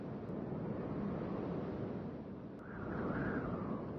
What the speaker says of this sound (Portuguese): Os ventos da primavera varrem a praia e levam a areia seca em direção ao continente.